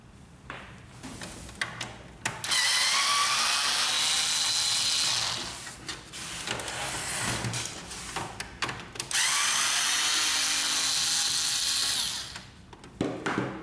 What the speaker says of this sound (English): Remove these two screws on the back.